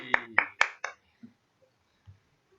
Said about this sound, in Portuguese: Foram palmas. Palmas.